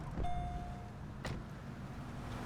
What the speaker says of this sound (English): So I'm going to get out of the car now.